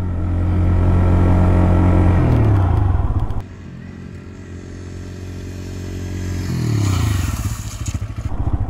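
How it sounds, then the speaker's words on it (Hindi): A TVS Raider 125 motorcycle rides at about 30 km/h, its engine droning loudly, then drops sharply in pitch as it brakes to a stop and idles before revving up again near the end. "ये आ गई 30 की स्पीड और देखते हैं कितनी देर में बाइक रुकती है।"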